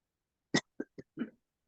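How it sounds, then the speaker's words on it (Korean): A short series of throaty coughs, four quick bursts heard close and fairly quiet against silence. "나도 기침하네."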